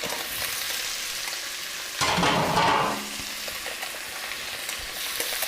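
Tofu, onions and green peppers being stirred in a hot pan, a steady sizzle rising into a louder burst of scraping and frying for about a second before settling back to a constant hiss, with no talking.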